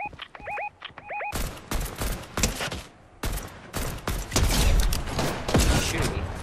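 Rapid bursts of video game gunfire in Roblox Arsenal, loud and close, with dense overlapping shots after a few short electronic beeps at the start.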